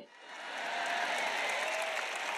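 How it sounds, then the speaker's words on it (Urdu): A church congregation claps during a sermon. The applause starts softly, swells into a steady, moderately loud wash of many hands and holds there. "اچھائی کے لیے آپ کی تالیاں کہاں ہیں؟"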